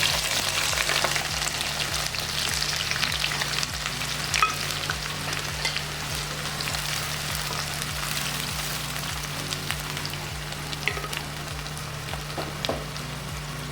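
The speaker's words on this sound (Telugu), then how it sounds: "ఇప్పుడు పచ్చిమిరపకాయలు, ఉల్లిపాయలు వేస్తాం" Green chillies and onions frying in hot peanut oil for a country chicken curry, giving a steady, dense sizzle and crackle that runs unbroken at an even level, with no talking.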